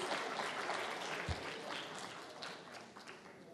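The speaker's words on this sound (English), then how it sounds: "Please give him a warm round of applause." Warm audience applause at a business forum opening ceremony in a Tunis hotel, a dense, fairly faint wash of clapping heard from a distance.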